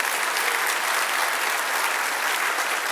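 An audience at the Wuerffel Trophy presentation for Drue Tranquill at Notre Dame applauds steadily and loudly, a dense unbroken wash of clapping that holds for the whole stretch with no talking.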